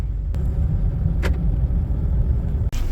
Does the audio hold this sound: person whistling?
no